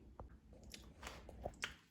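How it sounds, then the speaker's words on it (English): Crunchy chickpeas are chewed up close, giving quiet crunches and soft bites in an irregular rhythm. "Okay, so I'm chewing on these right now."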